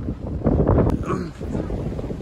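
Strong gusty wind outdoors buffets the microphone with a loud, low rumbling roar that surges and dips, while a person talks through it.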